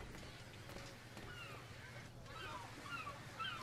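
Atlantic Ocean waves in Assassin's Creed 3, a faint steady wash of surf and wind with occasional higher cries over it.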